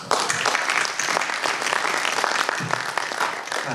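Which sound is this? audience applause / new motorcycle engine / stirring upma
audience applause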